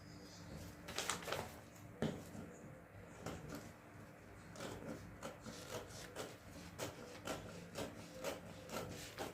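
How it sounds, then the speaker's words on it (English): Scissors snip through paper while cutting out a dress neckline pattern, giving close, quiet, irregular crisp cuts and rustles with short pauses between them. "the next thing I'll do is just to cut out this neckline, only the neckline, the main neckline"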